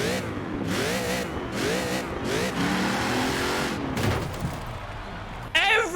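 An Alfa Romeo 155 in Forza Horizon 4 revs hard through repeated rising and falling engine sweeps, loud and close, with a brief tire or gearshift burst at the very end.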